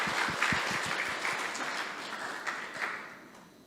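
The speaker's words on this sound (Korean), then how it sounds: "우리 큰 박수로 환영합니다." A church congregation at a Wednesday evening service claps to welcome a speaker forward, a dense burst of applause with some sharp nearby claps early on that gradually fades.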